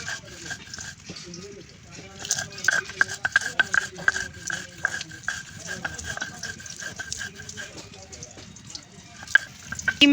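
Eggs fry in a pan with intermittent sizzling, scraping and clatter of cooking utensils, while a voice talks over the kitchen sounds.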